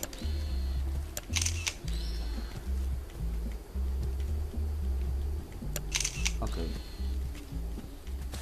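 A camera shutter clicks twice, several seconds apart, as a photo is taken in the video game Lucius. The crisp mechanical snaps stand out over steady low background music.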